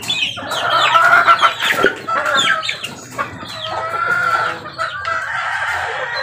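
A hen clucking among farm chickens, repeated busy clucks and squawks up close, with other fowl calling around it and a brief rooster-like call.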